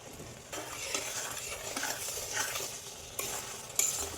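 Grated coconut is stirred into melting jaggery in a pan for a pitha filling, giving a continuous scraping, shuffling stir over a soft sizzle with occasional light utensil taps, close and alone.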